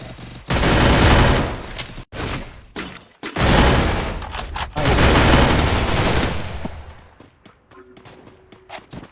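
Dense bursts of automatic gunfire from a shooting video game, loud and sustained with brief gaps between volleys, trailing off into scattered quieter shots.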